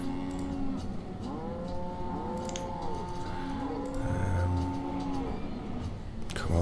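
Frisian cows in the medieval village-building game Banished, mooing repeatedly in a row of overlapping drawn-out calls, close and fairly loud over soft background game sounds.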